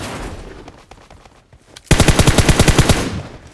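Automatic gunfire in the shooter game PUBG Mobile erupts suddenly as a loud, rapid burst of evenly spaced shots, following a quieter stretch of muffled in-game noise.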